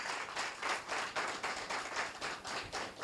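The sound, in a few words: audience applause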